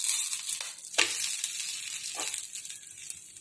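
Food sizzles steadily in a hot pan as it is flipped over, with a couple of sharp scraping knocks from the turning, close up and with no talk.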